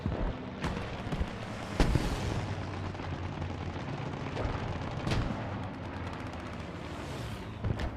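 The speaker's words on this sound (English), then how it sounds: "German strafing round." German aircraft strafing run in the Post Scriptum game: a steady roar of distant gunfire and rumbling impacts, with several sharper bursts standing out against dense battlefield noise.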